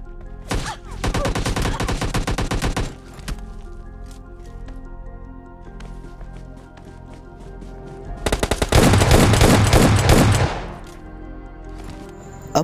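Enemy gunfire in the mobile battle royale game PUBG Lite, heard as two loud rapid bursts of automatic fire separated by quieter ambient game sound, the second burst dense and sustained for about two seconds.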